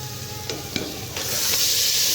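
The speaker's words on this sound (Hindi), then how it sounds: "अब हम इसके अंदर कीमा ऐड करेंगे" Steady sizzling and frying as minced meat is added to a hot pan for aloo keema, with a few brief clattering stirs early on and the hiss growing louder toward the end.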